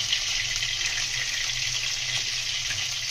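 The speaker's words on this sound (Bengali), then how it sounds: "একটু জল দিয়ে নিলাম, মশলাটা পুড়ে যাবে" Water poured into sizzling ground spices, tomato and chili powder in a pan for Bengali katla fish kalia, a steady close hiss and splash throughout.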